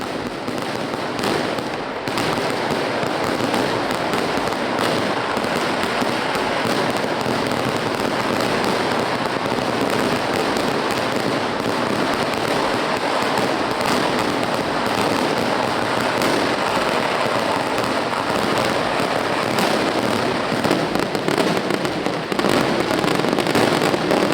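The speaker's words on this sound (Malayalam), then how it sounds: "അതാ തുടങ്ങിക്കഴിഞ്ഞു നെന്മാറ ദേശത്തിന്റെ വെടിക്കെട്ട്" Dense, continuous barrage of fireworks and firecrackers at the Nenmara Vallangi Vela temple festival in Kerala, crackling and booming without letup, loud and sustained for the whole stretch.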